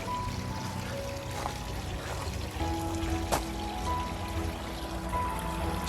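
A garden water feature beside a fish pond trickles and splashes softly in a continuous low wash, fairly quiet and steady with no voices.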